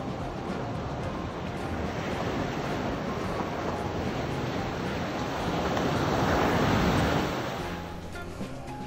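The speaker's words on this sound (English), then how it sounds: "Today we're in Santa Cruz at Natural Bridges State Beach." Surf and wind at Natural Bridges State Beach in Santa Cruz: a continuous wash of waves with wind buffeting the microphone, swelling louder toward the end before easing off.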